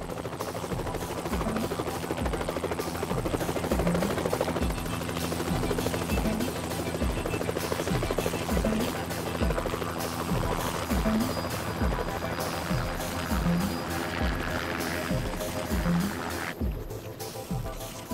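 A helicopter's steady rotor thumping and engine roar fill the whole clip, loud and close, with a rhythmic chopping beat throughout, near Churchill, Manitoba.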